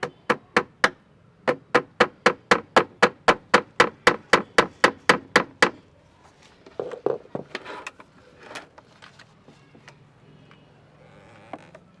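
A hammer drives nails into a wooden foldable table, with about twenty sharp, evenly paced blows close by in quick runs, followed by quieter scraping and handling.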